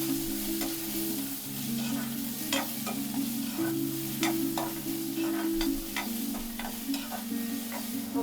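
Garlic and onion frying in oil toward golden brown, a steady sizzle under a low background hum, punctuated by frequent short stirring clicks and scrapes, close and even in level with no speech.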